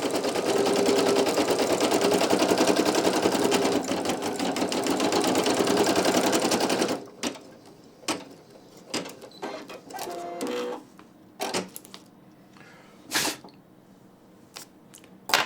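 A Brother PE800 embroidery machine stitching on a towel runs as a dense, continuous mechanical whirr for several seconds, then stops, leaving scattered clicks and short taps from nearby handling.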